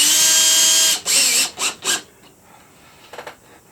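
Power driver sinking a screw into sheetrock with a loud whine that cuts off, followed by a few short bursts and a faint final buzz, all close by.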